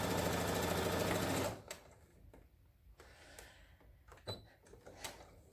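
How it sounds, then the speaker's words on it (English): Sewing machine stitching a French seam, a loud continuous mechanical whir that stops abruptly, followed by quieter clicks and handling noises of thread and presser foot. "now I'm going to do one final set of stitches"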